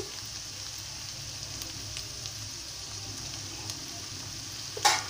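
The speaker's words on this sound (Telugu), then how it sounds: "పచ్చివాసన పోయేంత వరకు ఇది కూడా వేగాలి, అల్లం వెల్లుల్లి పేస్ట్." Ginger garlic paste fries in a hot pan with a steady, soft sizzle, occasional light scraping as it is stirred, and a brief louder crackle near the end.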